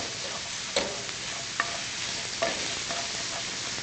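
Pork stir-frying in a wok makes a steady sizzle with a few sharp clanks of the utensil against the pan at intervals, close and moderately quiet.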